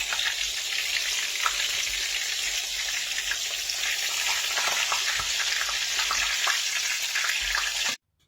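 Batter-coated porcini mushrooms deep fry in hot oil with a steady, dense sizzle and crackle, close and loud throughout before cutting off abruptly at the end.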